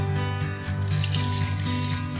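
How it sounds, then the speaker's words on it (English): Water from a tap or jug is poured into a pot of chicken and broccoli soup in a home kitchen, a steady, loud, close gush lasting a couple of seconds with no talking. "I'm going to go ahead and add 2 more cups of water"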